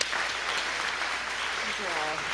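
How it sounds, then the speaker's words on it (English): Brief audience applause at a mental health forum, a dense wash of clapping with some voices mixed in underneath. "Let's give that person a round of applause"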